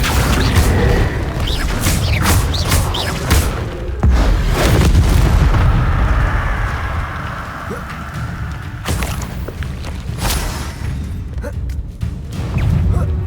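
Confringo blasting-spell explosions in the Hogwarts Legacy video game: repeated loud booms and heavy thuds come in quick succession, with crackling debris and rumble between hits.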